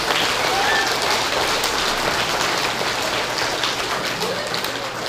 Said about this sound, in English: They deserve as much applause as you can possibly give them.